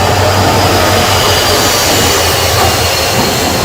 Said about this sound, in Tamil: டீசல் இன்ஜின்ல தான் ஓடும்.